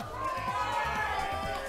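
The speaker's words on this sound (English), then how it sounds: "there's fans in the crowd cheering on their homies" Crowd of fans at an ARMS esports match, a noisy mass of overlapping voices and cheers, near and continuous over the short moment.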